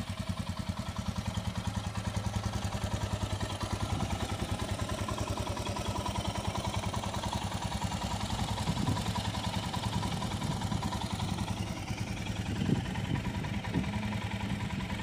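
A fully fuelled motorbike, ready for a road ride in Rajasthan, idles with a steady, even engine throb close by, some light clatter and a few faint knocks toward the end, no voices.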